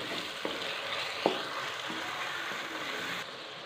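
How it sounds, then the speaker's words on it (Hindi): Tomatoes frying in a pan until soft, a steady broadband sizzle throughout with a few soft stirring knocks and scrapes, fairly quiet and close, no voices. "टमाटर को अच्छी तरह सॉफ्ट करेंगे।"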